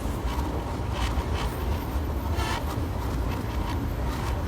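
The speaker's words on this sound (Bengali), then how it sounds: "এক পাশে ট্রেন চলছে, আরেক পাশে গাড়ি চলাচল করছে" A night train crosses the Bangabandhu bridge, heard from on board as a dense, continuous low rumble with faint rhythmic rail clatter, steady and enveloping.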